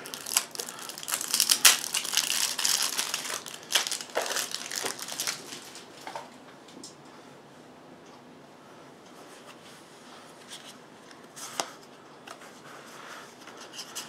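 Plastic wrapping on card packs from the Too Many Bones board game being crinkled and torn open, loud and close at first, then quieter scattered rustles and one sharp crackle later.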